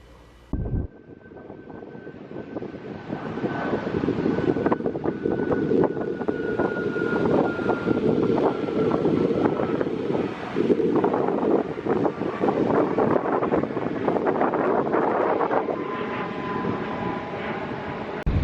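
Strong wind at Ocean Beach in San Diego buffets the microphone in a loud, continuous roar with gusty surges, punctuated by rustling and a faint steady hum.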